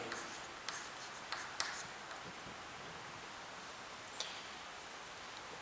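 A pen scratches softly across paper while a right triangle is drawn for a geometry lesson, with faint continuous strokes and a few light ticks of the tip, quiet and close, with no voices.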